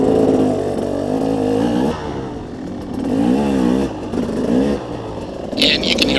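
A KTM 300XC two-stroke dirt bike riding on a trail, its engine buzzing loud and close, rising and falling as it revs and changes speed, with rushing wind and a burst of rattle at the end.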